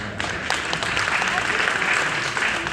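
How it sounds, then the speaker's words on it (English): Applause from an audience honoring Dr. King at a church service, a steady wash of clapping across the whole stretch with some voices mixed in. "Can we just give Dr. King one more round of applause?"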